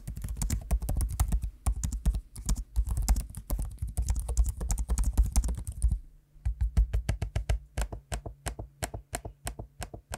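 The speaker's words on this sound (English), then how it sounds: "Here's a quick noise sample of me using both the keyboard and trackpad so you can hear what they sound like for yourself." Fast clattering keystrokes ring out on a Lenovo Yoga 7i 2-in-1 laptop keyboard, followed by a steadier series of sharp, evenly spaced trackpad clicks, all close and with no voices.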